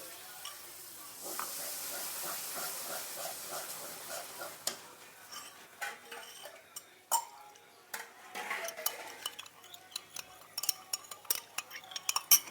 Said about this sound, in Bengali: এই যে ফাটানো দই দিয়ে দিচ্ছি।